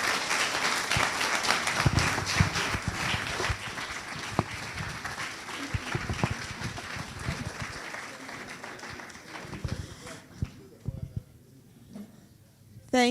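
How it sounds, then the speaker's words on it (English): An audience at an academic lecture on global health research gives a long round of applause, dense clapping with sharper individual claps standing out, tapering to scattered claps before a voice begins at the end. "I think you deserve another round of applause."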